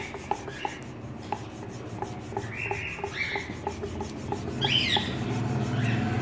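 An ingredient for a home remedy is rubbed or grated with steady rhythmic rasping strokes, close and clear, growing a little louder toward the end.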